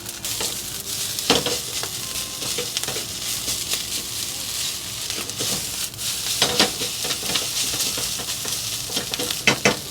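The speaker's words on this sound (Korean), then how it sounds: "여기에 준비해 두었던 파슈하고 파를 넣겠습니다." Chashu pork and green onion stir-fried over gentle heat for fried rice, a constant crackling sizzle broken by repeated scraping clacks of a spatula tossing the ingredients in the pan.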